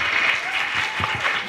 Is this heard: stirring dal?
no